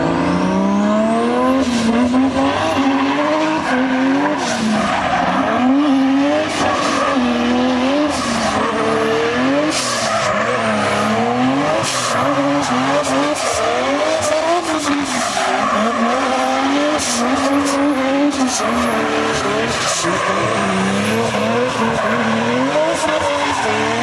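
A BMW fitted with a Toyota 1JZ engine drives hard on a race track, with loud rising and falling engine revs through repeated gear changes and frequent tire squeal from skidding, continuous and close.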